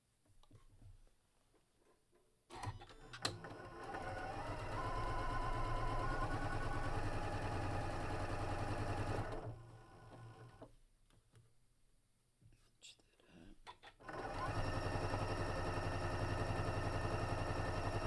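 A sewing machine stitches quilt rows in long, steady runs with a low, even hum and rapid ticking, stopping for a few seconds in between and then starting again.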